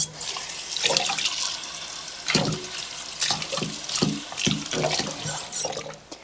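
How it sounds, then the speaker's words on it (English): Chili peppers being rinsed under a running kitchen tap, with water splashing and pattering in uneven bursts as the peppers are turned in the stream, close and moderately loud. "Let me rinse these two out a little bit."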